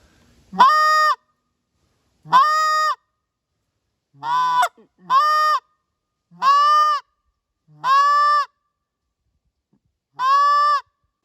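Seven separate honks on a short reed Canada goose call imitating a content goose, each a short nasal call, spaced about a second apart. They are loud and close, with silence between them.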